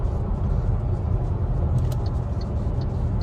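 A 2023 MG4 EV 64kWh electric car cruises at about 90 km/h, with a steady, close rumble of road and tyre noise filling the cabin without a break and no voices.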